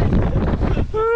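Strong wind buffets the microphone on a mountain hike at Mt. Batulao, a rough low roar close and loud, with a brief tonal whistle near the end.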